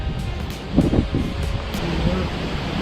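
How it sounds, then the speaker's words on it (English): Steady, broadband wind roars continuously across the microphone, a loud outdoor rush with a few brief louder gusts and no clear talking. "Super windy."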